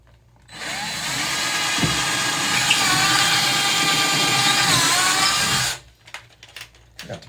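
Power drill boring a pilot hole into a wall for small anchors, a single steady whining burst of about five seconds, close and loud, starting and stopping abruptly, with no talk.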